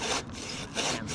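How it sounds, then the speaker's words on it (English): A Silky handsaw cuts into wood with brisk back-and-forth strokes, about three quick rasping passes close by, each separated by a short pause. "good feel for the handsaw. That thing boogies."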